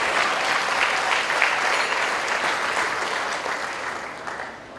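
Guests at a minister's banquet in 2014 give steady, full applause, a close and even wash of many hands clapping that gradually softens toward the end, with almost no voices.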